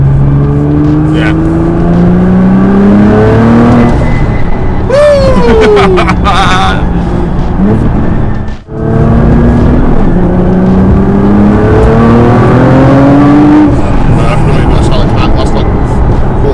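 A 1000 BHP Liberty Walk Nissan GT-R revs at quarter throttle, its loud, close engine note climbing and falling in repeated swells with a brief drop near the middle, while people talk over it.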